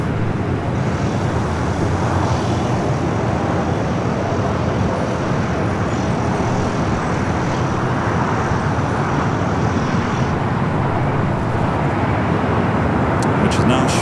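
Airliners at LAX, including an A321neo and an incoming A380, give a continuous loud roar of jet engines and traffic that holds steady throughout with a faint high whine.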